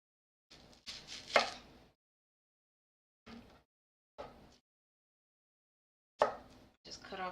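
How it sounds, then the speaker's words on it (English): A knife chops through an onion on a cutting board in a home kitchen, with several short bursts of close, crisp strokes in uneven clusters separated by quiet pauses. "So I'm gonna do the next onion a little bit faster."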